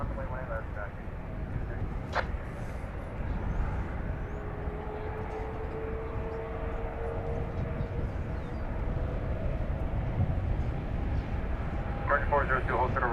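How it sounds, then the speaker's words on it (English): An American Airlines jet airliner at DFW airport, a broad distant engine roar that swells slightly over time, mixed with wind and background noise, with brief indistinct voices and radio chatter. "So here we are with American Flight 61 to Narita Airport."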